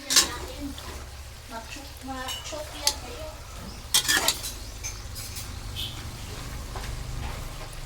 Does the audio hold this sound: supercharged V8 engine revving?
no